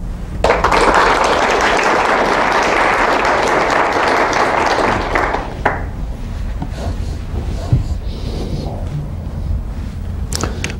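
A lecture audience applauds to welcome lecturer Ted Anderson, dense steady clapping for about five seconds before it thins out into scattered claps and room noise.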